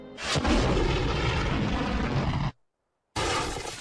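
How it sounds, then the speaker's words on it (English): A suspicious bag detonated at a train station goes off in one sudden, loud boom that rolls into a long rumbling roar before cutting out, followed by another burst of rumble after a short silence. "the suspicious bag detonated at Springfield Union Station today contained deadly plutonium"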